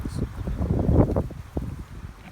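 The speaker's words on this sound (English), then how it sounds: "it's kind of getting windy, so hopefully the video won't be too scratchy, the sound" Wind gusts buffet a microphone outdoors, giving a rough, low rumbling roar that swells near the middle and stays fairly steady for a couple of seconds.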